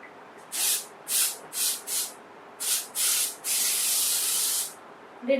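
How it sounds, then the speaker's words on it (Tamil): Short bursts of a dry powder spray hiss out in a series of quick puffs, then one longer continuous spray, close and crisp against a quiet room. "ட்ரையா இருக்கு ஸ்ப்ரே, பவுடர் போட்ட மாதிரி."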